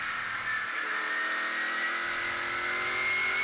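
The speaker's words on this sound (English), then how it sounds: "you can actually hear them actually working the gas pedal" An open-wheel modified race car engine revs steadily at a racetrack, rising and easing off with the gas pedal in a continuous loud drone, close by with a harsh whining tone.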